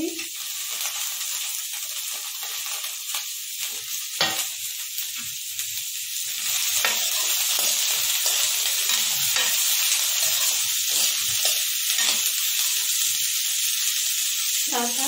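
Onion and capsicum stir-fry in a pan with a continuous loud sizzle, broken by scraping stir strokes that come close together; the hiss grows fuller partway through, and there is no talking.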